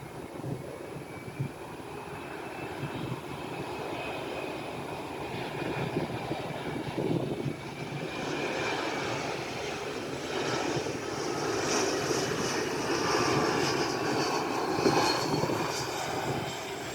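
An Atlas Air Boeing 747 jet on approach to runway 08 near Miami, a steady distant engine roar that slowly swells and brightens as the aircraft draws nearer.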